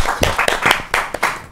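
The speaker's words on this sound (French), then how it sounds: "Applaudissez." Audience clapping after a French-language talk, a sparse, uneven burst of a handful of distinct hand claps, close and fairly loud, with irregular gaps between them.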